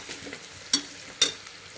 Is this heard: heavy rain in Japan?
no